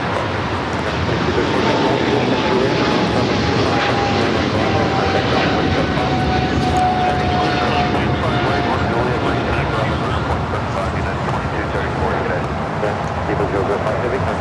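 Heavy Boeing 777 on final approach to land at LAX, a loud continuous engine roar with a steady whine, heard alongside air traffic control radio talk.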